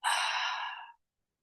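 A single long exhale during a yoga stretch: a soft, airy breath close to the listener, lasting just under a second and ending abruptly in silence.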